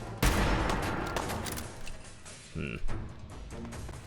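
Gunfire in the Fallout 4 video game, a loud opening blast followed by a rapid run of shots that fades, then a few more scattered bangs, with a voice speaking over part of it.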